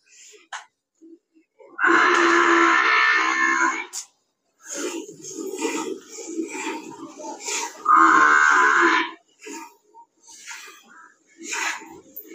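A Murrah buffalo at a dairy farm gives two long, loud moos, each a few seconds long and separated by a pause, with someone talking nearby between and after the calls.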